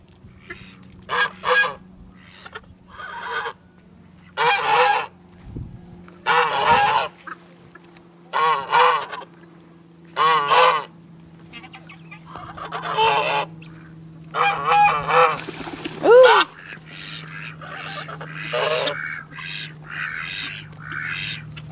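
Geese honking on a lake in a long series of loud, harsh calls, some in quick clusters and others spaced apart, carrying over a steady low background hum.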